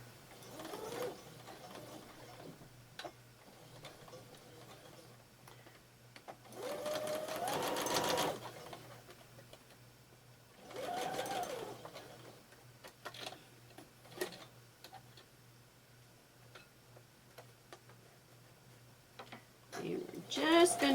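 Sewing machine stitching seams on a quilt block, with short bursts of rapid mechanical whirring and ticking between stretches of quieter handling, while someone talks through much of it.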